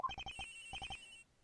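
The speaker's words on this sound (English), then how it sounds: "Agent Hicks' phone is ringing from somewhere" A mobile phone ringtone rings inside a video game, a run of short electronic beeps in two quick clusters followed by a sustained tone that cuts off, faint and thin.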